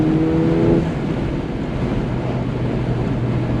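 A tuned 1.6-liter Ford Fiesta ST running an E30 tune, otherwise stock apart from a drop-in air filter, accelerating: a steady, loud in-cabin engine drone with a brief tonal whine at the start and rushing road and wind noise.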